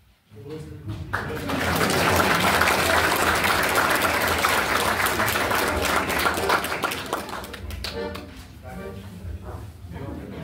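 Audience at a Christmas concert in Chanovice breaks into loud, sustained applause lasting about nine seconds, dense and steady before tapering slightly at the end.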